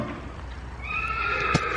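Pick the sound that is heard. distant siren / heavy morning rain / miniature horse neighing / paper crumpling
miniature horse neighing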